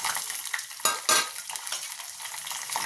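Mustard seeds, lentils and dried and green chillies frying in oil for a mango pulihora tempering, with a steady sizzle, light crackling and a few sharp metallic clinks of a spoon against the pan, heard close.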